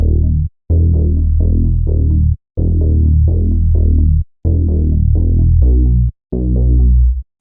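Layered synth bass built in Serum 2, a saw-wave pluck with unison, plays a loud, punchy rhythmic pattern of repeated short notes with brief gaps between phrases, deep and throbbing, with no voices.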